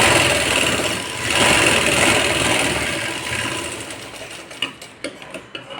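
A sewing machine runs fast and steady while stitching a plain katori blouse, a close, continuous mechanical whir that slows near the end into a few separate short bursts.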